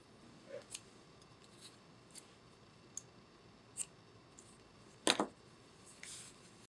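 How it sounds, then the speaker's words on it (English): Scissors trim loose yarn ends on a crochet camper piece, with a few faint snips followed by one crisp, close cut standing alone in a quiet room. "and then I'm going to trim all my ends."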